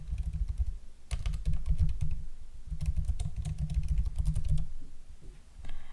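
Keys clatter on a computer keyboard while a form is filled in, two dense bursts of rapid typing separated by short pauses, close and clear with no speech.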